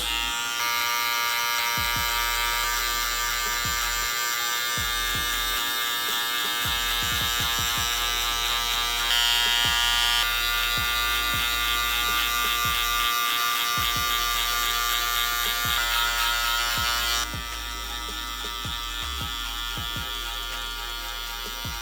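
Electric hair clippers with a 2 guard and the lever open cut a drop fade, giving a close, continuous buzzing drone that shifts slightly in tone partway through and then holds steady.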